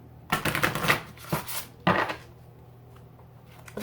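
Tarot deck being shuffled, with three bursts of riffling cards (the first long, two shorter ones after), each followed by quieter handling of the deck over a low background hum.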